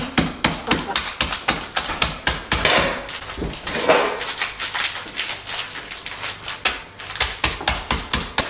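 Steady, rhythmic pounding, a dense stream of sharp knocks like a pestle crushing peanuts in a mortar, close and loud.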